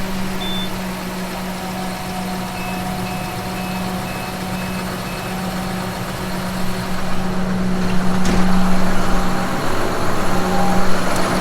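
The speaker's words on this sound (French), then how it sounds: "Là on va faire tourner un peu le tracteur, histoire que ça chauffe un petit peu" A farm tractor's engine idles to warm up on a cold day, a steady low drone with a constant hum, growing somewhat louder toward the end with faint beeps in the background.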